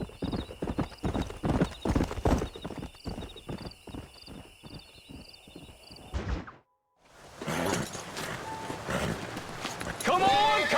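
Horses in the Red Dead Redemption video game clip-clop steadily along, then fall briefly silent before more hoof movement resumes and a clear whinny rises near the end.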